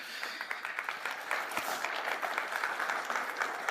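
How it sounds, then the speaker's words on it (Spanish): A conference audience at a PIT Chile event applauds a talk. Dense, even clapping sounds fairly faint and distant and holds steady throughout without a break. "Así que un aplauso para PIT Chile."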